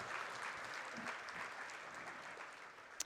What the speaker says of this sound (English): very delayed clapping